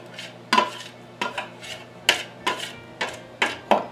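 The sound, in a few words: scraping flour out of a big bowl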